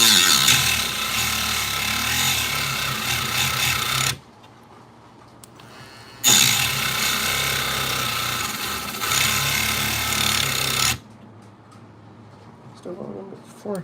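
A Dremel rotary tool grinds and whines in two long, loud bursts separated by quiet gaps, with a voice speaking softly in the pauses.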